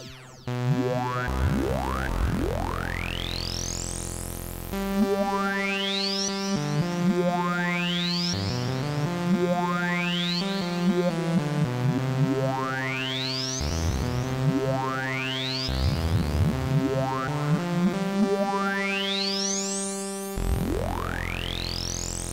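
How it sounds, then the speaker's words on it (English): Woovebox synth pattern run through a double delay effect, rising pitch sweeps and stacked harmonic tones repeating in layered echoes for over twenty seconds, loud and continuous with no voices. "Let's go double delay."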